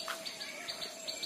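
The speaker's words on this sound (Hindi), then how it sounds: "देखो चिड़ियों की आवाज़ आपको आ रही होगी" Several birds chirp and tweet in a forest in Bengal, short high calls repeating in quick bursts at a moderate distance over a quiet background.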